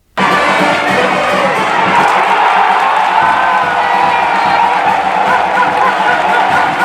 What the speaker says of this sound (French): But applaudi par la poignée de spectateurs admise au stade.